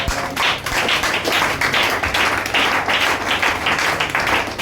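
Congregation at a church night prayer vigil clapping and acclaiming together, a dense, steady wash of hand claps and cheering that fills the room for the full stretch, loud and sustained with slight swells.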